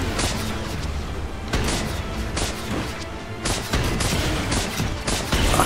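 Rapid, heavy booming blasts of cannon fire in LEGO Marvel Super Heroes, repeating in dense bursts with crashing impacts, loud and continuous.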